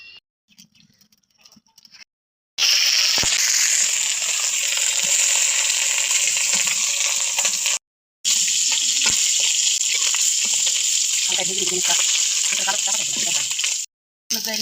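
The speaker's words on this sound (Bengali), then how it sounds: "ডিমটা একটু ভেজে নেই তারপরে তোমাকে সব বানিয়ে দেবো" Fish roe frying in hot oil gives a loud, bright, continuous hiss that runs for several seconds, broken by two short silent cuts, after a quiet stretch at the start.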